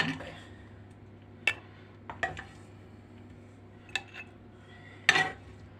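Meat scooped with a spoon into clay pots for a stewed potato dish, several sparse clinks and scrapes of utensil against ceramic over a quiet background.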